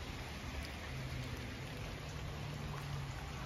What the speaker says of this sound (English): It's heavily pouring.